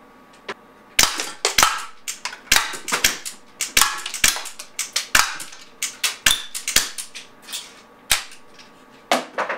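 An Umarex Walther Nighthawk 4.5 mm CO2 pellet pistol fires repeatedly at cans, producing a rapid string of sharp, close cracks and metallic pings at irregular intervals, with no talking.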